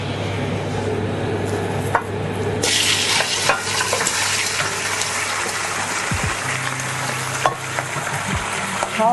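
Chicken pieces fry in hot oil and caramelised sugar in a pan, giving a loud, steady sizzle broken by scraping stirs and a few sharp clatters from the utensil against the pan.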